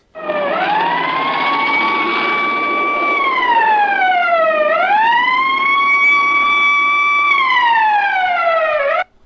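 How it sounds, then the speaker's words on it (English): An ambulance siren wailing loudly and close, its tone sliding slowly down, up and down again in long sweeping cycles for several seconds before cutting off abruptly, with no voices. "the ambulance was trying to speed away through the crowded streets"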